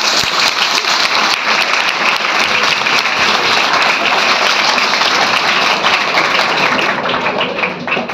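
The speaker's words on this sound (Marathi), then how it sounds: "यांच्यासाठी एकदा जोरदार टाळ्या झाल्याच पाहिजे." An audience at a Savitribai Phule birth anniversary event in India gives loud, sustained applause, many hands clapping densely and continuously for several seconds before it thins slightly at the end.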